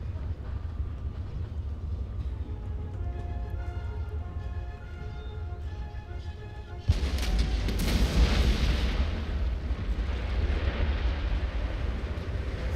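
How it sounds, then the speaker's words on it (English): Cannon fire from castle walls during an Empire: Total War siege: a low battle rumble gives way to a sudden heavy blast and then a louder, continuous roar of booming guns and crashing impacts. "there's some return cannon fire from the top of the walls"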